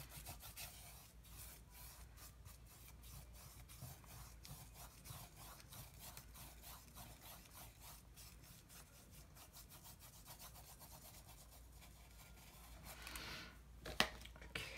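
Paper glued onto a canvas collage being scrubbed down by hand, a steady dry rubbing and scraping that continues close and fairly quiet throughout, with a few sharper scuffs near the end.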